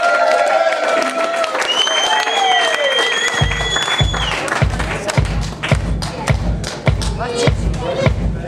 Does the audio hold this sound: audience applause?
yes